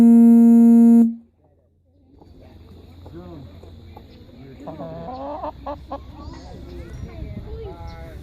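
Chickens cluck and murmur close by while being fed alongside goats, a loose run of calls rising after a brief tone, with people talking over them.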